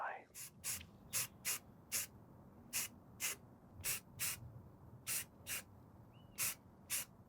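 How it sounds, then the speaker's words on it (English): Primer sprayed from a can onto replica prop parts in quick hissing bursts, about fourteen short even blasts with brief pauses between, close and clear over a low room rumble, with no talking. "So I can spray them and hit every side and let them dry."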